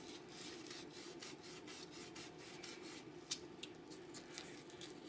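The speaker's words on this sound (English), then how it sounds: "I take my 220 file sandpaper and I go inside" 220-grit sandpaper rubs around the inside and outside of a metal coin ring in a steady, quiet, close rasping rhythm of repeated short strokes, with a couple of faint clicks.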